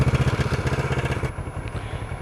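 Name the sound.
1984 Suzuki GR650 motorcycle engine idling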